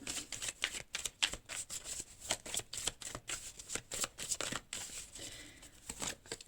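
Tarot cards shuffled and drawn by hand: rapid, close, crisp riffling and flicking bursts in an uneven rhythm, with no talking.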